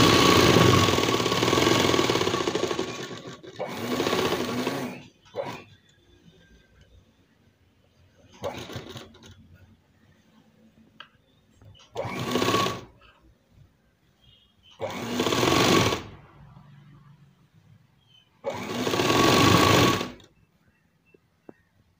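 A sewing machine stitches a chudidar hem in loud bursts of a few seconds each, separated by quiet pauses, with soft speech in between.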